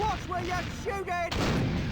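Cannon fire in The Curse of Monkey Island video game booms amid dense noisy game audio, with a sharp burst of blast energy near the middle-end and a voice-like tonal sound just before it.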